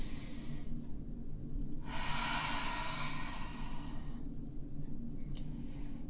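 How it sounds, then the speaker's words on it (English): Slow, deliberate human breathing: a long inhale swells after a quiet pause, followed by an audible exhale, close to the mic over a steady low background hum. "Take a deep breath in, let it all the way out, and pay attention to my breath."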